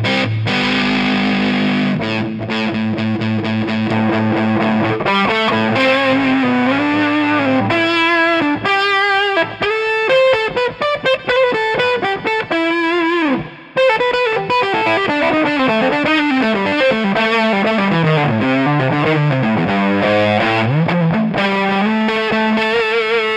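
An electric guitar played through a PHD Isosceles Fuzz pedal with its mid switch flipped up gives thick, saturated fuzz lines and bending sustained notes, loud and continuous, with one brief break partway through and no voices.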